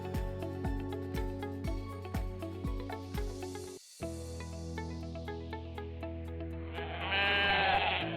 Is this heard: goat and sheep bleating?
yes